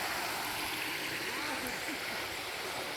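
Water rushes and gurgles steadily at a Dennery waterfall where a little whirlpool forms, a constant broadband flow close by with no clear voices over it.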